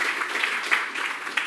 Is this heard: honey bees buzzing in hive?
no